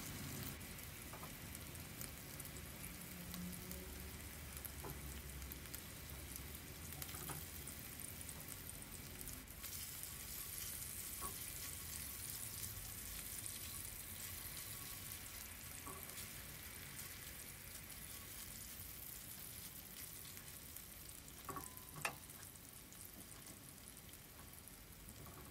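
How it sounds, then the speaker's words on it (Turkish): Sıkma meatballs fry in hot olive oil, giving a faint, steady crackling sizzle throughout with a few louder pops. "sıkmaları ekliyorum. Hepsini aynı anda kızartabilirsiniz."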